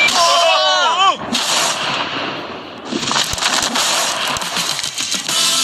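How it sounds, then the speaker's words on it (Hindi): A large TNT charge blows up a safe, sending out a loud, broad roar that swells for several seconds after a brief whistling tone. Crackling debris and scattered sharp pops follow. "इस धमाके ने सच में मुझे डरा दिया।"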